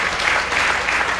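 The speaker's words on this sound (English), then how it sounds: "why don't we give her a big round of applause?" Brief burst of audience applause at a county fair queen pageant, a dense steady wash of many hands clapping with no voices over it.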